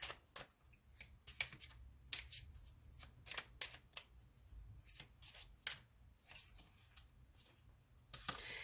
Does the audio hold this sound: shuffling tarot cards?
yes